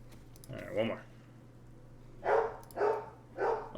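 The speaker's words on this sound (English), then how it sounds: "Ignore the dog in the background." A dog barks in the background, one yelp followed by three evenly spaced barks, fairly faint behind a steady low electrical hum.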